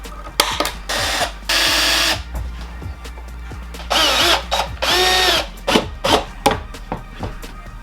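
A power drill drives screws into wood, with several loud whirring bursts of a second or so each, up close, alternating with scraping, handling and short clunks between runs.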